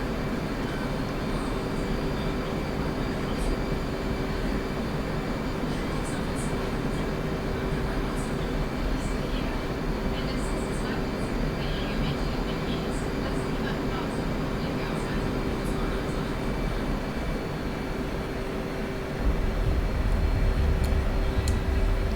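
An FA-18C jet engine in a flight simulator game hums as a steady drone while the throttle advances, swelling into a louder, deeper rumble near the end.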